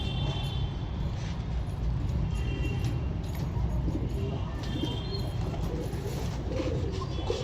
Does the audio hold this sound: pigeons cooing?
yes